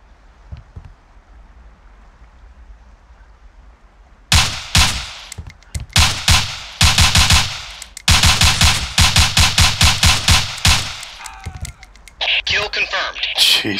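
Rapid bursts of close, loud gunfire in Ghost Recon Navy SEALs during CQB training, starting after a quiet lull and repeating in long automatic strings separated by brief pauses, with voices talking in between.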